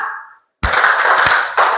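A classroom of students claps in unison on a teacher's command, a loud burst of sharp hand claps beginning abruptly after a short silence and continuing for about a second, with a fresh burst near the end.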